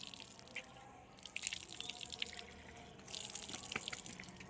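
Water runs from a household tap and drips steadily, a close, fairly faint splashing trickle that swells after the first second and continues to the end.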